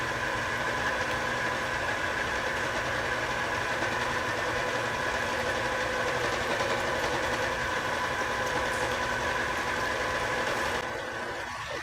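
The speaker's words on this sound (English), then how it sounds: "we are going to turn on the meat grinder." A meat grinder runs steadily, grinding lean prime steak, with a continuous loud motor drone and a buzzing mechanical churn that holds for about eleven seconds before easing off slightly at the end.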